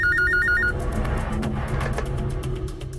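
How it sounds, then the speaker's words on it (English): A home telephone rings with a repeated electronic trill, loud and close at first, then a sparse pattern of clicks and faint tones continues over a steady low hum. "I was home alone, and the phone rang."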